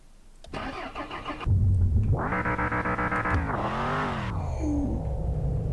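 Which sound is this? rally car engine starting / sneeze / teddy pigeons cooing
rally car engine starting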